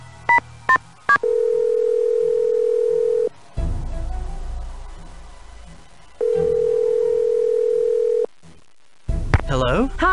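An answering machine in a Nancy Drew game plays a few short beeps followed by a long steady tone, then a second long tone several seconds later, with brief speech and static-like handling in between.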